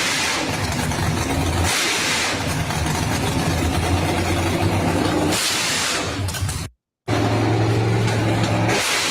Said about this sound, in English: I love the way that truck sounds